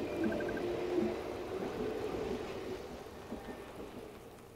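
Nighttime rain in the Yokai Watch 2 video game: a steady wash of rainfall with a low rumbling undertone, continuous and fairly loud, fading slightly toward the end, with no talking.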